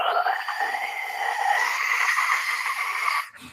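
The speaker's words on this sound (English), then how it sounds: "like a white noise machine, or like static on a radio" Interferometer sensor data played back through a speaker as a steady hiss of broadband static, fairly loud and even for about three seconds before cutting off abruptly.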